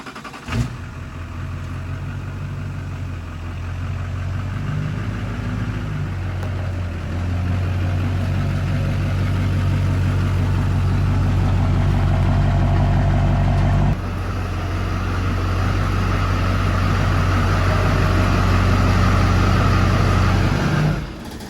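An LB7 Duramax diesel truck engine runs steadily near the shop, a deep continuous drone that swells as revs rise, with a brief dip partway before it settles back; any small rattle is not clearly picked out.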